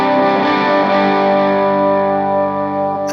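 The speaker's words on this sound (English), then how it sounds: "So I'm going to choose the distortion, which is a DS1 style." Electric guitar played through a Line 6 POD Express on a heavy DS1-style distortion setting, a single thick sustained chord that rings out and slowly decays, alone.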